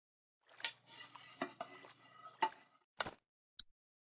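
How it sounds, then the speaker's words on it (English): Soup stirred in a pot in the video game The Walking Dead: 400 Days, heard as a series of scraping and clinking strokes of a utensil against the pot, moderately quiet, with a couple of sharp taps at the end. "Let's stir some soup."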